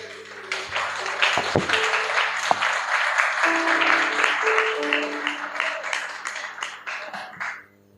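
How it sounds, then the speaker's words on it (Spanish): Applause from a church congregation for the Lord swells from a few scattered claps into a full round with sharp individual hand strikes, sustained several seconds before fading out abruptly near the end. "¿Cuántos pueden darle un fuerte aplauso al Señor,"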